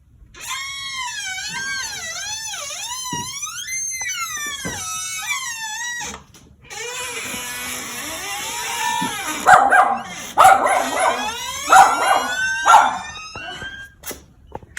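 A dog howls and whines in long wavering cries, then barks and yips in loud bursts, reacting to a squeaky door close by.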